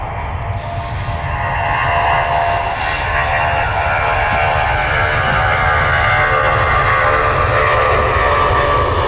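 EasyJet airliner at Stansted Airport, a steady, loud broadband engine roar holding for the whole stretch, close and unbroken, with no talk over it.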